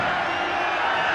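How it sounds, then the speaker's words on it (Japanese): Stadium crowd booing after a foul in the football game Winning Eleven '97, a brief sustained wall of massed voices droning loudly throughout. "ホイッスル、ファール、 ブーイングですね"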